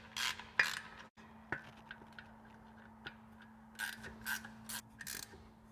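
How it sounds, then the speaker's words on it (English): Quiet clicking of a ratchet tightening nuts on an axle flange, short bursts of ticks with pauses and small metallic knocks between, close by over a low steady hum. "I now can install the nuts to firmly hold the axle into the axle tube."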